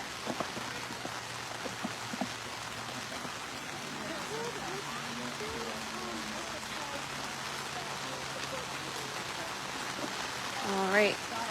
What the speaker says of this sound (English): Gina loving the rain, so are we.